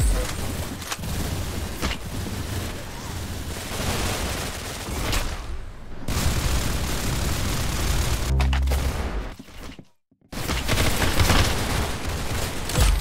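Video game gunfire in a shooter, a dense continuous barrage of loud shots and explosive bursts with a brief drop to near silence before the fire resumes, with faint voices in the mix.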